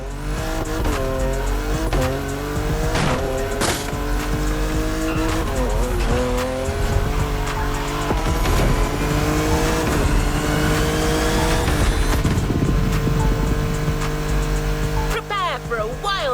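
Race cars tear through night-time Honolulu streets in The Crew Motorfest, engines roaring and shifting continuously with repeated tire squeals and skids, loud and dense for the whole stretch, with a voice faintly mixed in.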